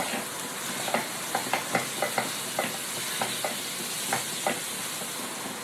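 Shelled cardamom seeds sautéing in a pan: a steady soft frying hiss runs throughout, broken by a series of light taps and scrapes as a spoon moves them, and no one speaks.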